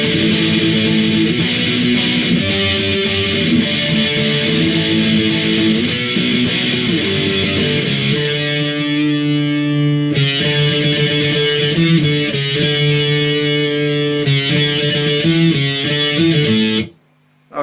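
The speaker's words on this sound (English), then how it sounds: "this is like where the song kind of really kicks in and starts doing like some heavy kind of distorted power chords" Heavy distorted electric guitar power chords from the intro of a song, loud chugging strums held in steady rhythm with chord changes around the middle, continuous for about seventeen seconds before cutting off abruptly.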